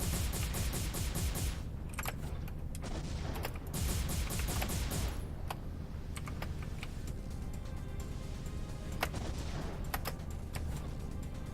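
A mech's gun fires in the video game MASS Builder: loud, rapid bursts of shots with sharp cracks, repeating steadily under a dense, continuous mechanical din and no talk.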